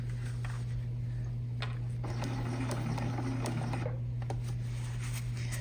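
A sewing machine stitches a zipper pouch at a set stitch length, giving a steady, continuous motor hum with a fine rapid needle clatter running evenly throughout, close and moderately loud with no talking.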